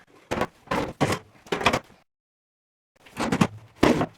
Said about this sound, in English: I'm going to go ahead and remove the drawers.